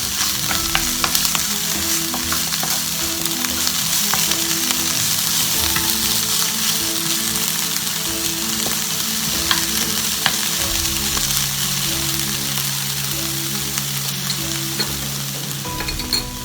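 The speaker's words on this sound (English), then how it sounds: "Next we're going to put in the garlic and the ginger. Mix these around a bit." Garlic and ginger fry and sizzle loudly in a hot pan, with a steady, dense crackle and a scraping stir running throughout.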